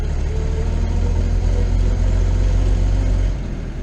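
A 1928 Buick drives along in second gear at about 30 miles an hour, its engine a steady, close, low-pitched drone that holds evenly and then eases off slightly near the end, with no talking.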